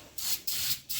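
Three quick hissing spritzes from a spray bottle misting oil onto the air filter of a Kymco Mongoose 250cc quad, close and evenly spaced, each lasting a fraction of a second.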